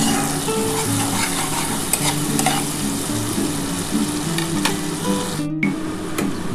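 Onions fry in hot oil in a pan with a steady, close sizzle, broken by repeated scraping and clinking from a spatula stirring them. No voices.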